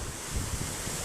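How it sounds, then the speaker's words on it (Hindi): Large sea waves crash and surge, a broad roaring wash of surf blended with strong wind buffeting the microphone, loud and continuous throughout. "देखो कितना ऊंची ऊंची लहरें आ रही हैं।"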